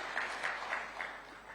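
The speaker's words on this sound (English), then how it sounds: "Ladies and gentlemen, let's give him another round of applause." A conference audience at a health financing dialogue gives a brief, faint round of applause with a few soft pulses of clapping that stay fairly distant.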